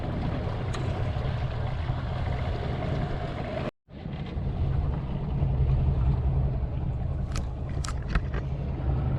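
A sailboat with a failed engine is slowly towed into a harbour by a marina boat near Chiapas, heard as a steady, loud low motor rumble with wind and water wash, briefly cut out partway.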